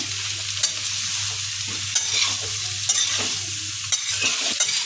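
Onions frying in a pan for chicken, stirred with a steady sizzle and periodic scraping strokes of a spoon about once a second, close and continuous with no talking.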